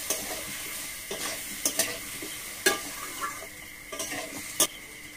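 Potato and eggplant sizzle steadily in a pan while a utensil scrapes and clinks against it in several sharp strokes, close and moderately loud with no talking.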